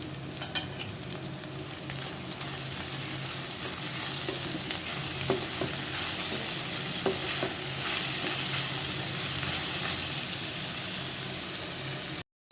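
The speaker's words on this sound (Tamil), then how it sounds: "இந்த ஸ்டேஜில் இஞ்சி பூண்டை வந்து நம்ம சேர்த்து நல்லா வதக்கிக்கலாம்" Ginger-garlic paste sautéing in oil with onion and green chili while cooking ayila fish puttu, a constant close sizzle broken by scraping and clinking stirring strokes.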